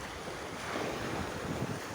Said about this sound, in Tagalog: Sarap pakinggan yung tubig.